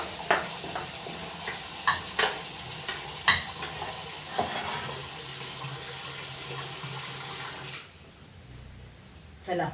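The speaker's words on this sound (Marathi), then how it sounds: "चला, पाणी आलेलं आहे." Tap water pours steadily into large pots in a home kitchen, giving a continuous rushing hiss with a few clanks of metal vessels. The flow cuts off abruptly near the end.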